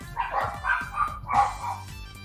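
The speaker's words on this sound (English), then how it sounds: "The dogs are really pissed off." Several dogs barking outside, a run of excited overlapping barks and yips at moderate distance, fairly loud and continuous.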